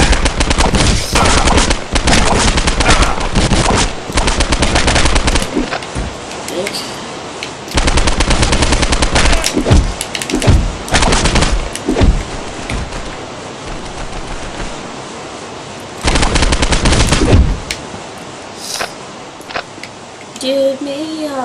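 Loud, dense bursts of gunfire from the video game Postal 2, with rapid machine-gun-like volleys filling most of the stretch, broken by short gaps, while a voice talks over parts of it.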